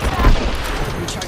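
Rapid gunfire bursts in a video game shootout, loud and dense with overlapping shots across the short moment, no speech audible.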